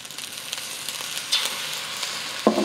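Soy sauce hits fried rice in a hot pan, a soft steady sizzle with faint crackles and a brief scrape near the end, no talking.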